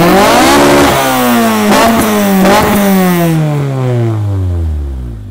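A swapped Honda Civic engine revs up hard and then drops away, a loud, near rasping roar with a rhythmic mechanical pulse as the revs fall and fade.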